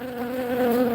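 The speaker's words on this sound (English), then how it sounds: "I've got a bunch of bees flying around me" Honey bees swarming around a beekeeper at the hive give a steady, close, droning buzz with a strong low hum that rises slightly toward the end, with no talking.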